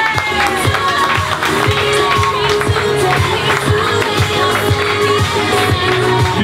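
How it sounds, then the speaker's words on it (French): An audience at a fashion night of Vosges couture creations cheers and shouts with whoops and clapping for a model on the runway, loud and lively over pulsing background music. "On peut applaudir notre charmant modèle."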